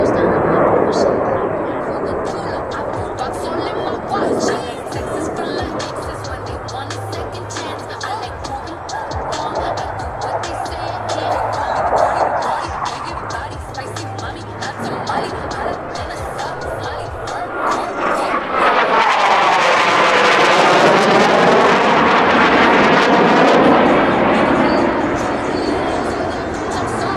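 Blue Angels US Navy jets thunder past at the 2019 New York International Air Show, a broad loud roar swelling near the end as the pair passes close, with a public-address announcer talking over it and a crowd in the background.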